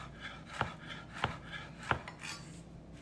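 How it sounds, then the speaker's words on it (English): A knife chops on a cutting board during a cooking class, three spaced, crisp thuds in a slow steady rhythm over a quiet room background, close and soft. "So here's our next herb that we chopped. These are our chopped chives."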